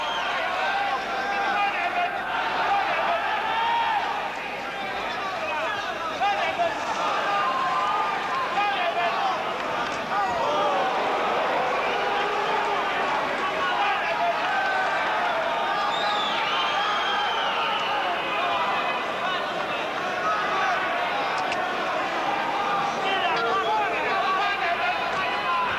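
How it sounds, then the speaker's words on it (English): Boxing crowd in the Albert Hall at the end of a featherweight fight, a sustained loud roar of cheering and shouting with a commentator talking over it throughout. "you only have to listen to this crowd at the Albert Hall to realise that"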